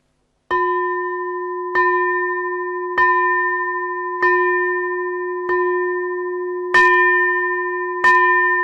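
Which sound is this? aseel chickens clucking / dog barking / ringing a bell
ringing a bell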